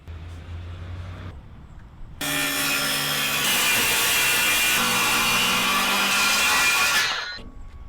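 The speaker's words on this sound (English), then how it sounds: "I'm ready to cut my trim." A saw rips a strip of wood trim 4 1/4 inches wide along a clamped straight edge, a loud continuous cutting roar lasting about five seconds after a quieter lead-in, then winding down, with no speech.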